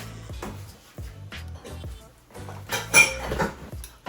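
Ceramic bowls, pots and utensils clatter and clink in a home kitchen as someone rummages through a cupboard, a run of close, uneven knocks and rattles that grows busier and louder toward the end.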